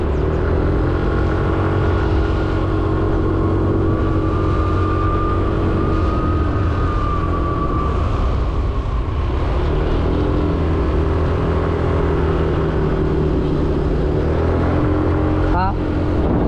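A scooter engine drones steadily while riding, loud and continuous with slight shifts in pitch, heavy wind rumble over it throughout.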